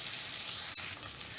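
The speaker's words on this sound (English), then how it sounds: "it's been about 2 minutes since our bhendi is frying" Okra frying in an open pot, a steady close hiss and sizzle of oil throughout, with a brief dip partway through.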